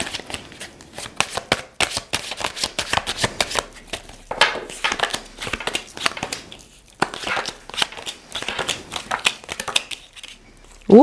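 Tarot cards are shuffled close by in rapid, riffling bursts that run nearly continuously, with a few short pauses between rounds.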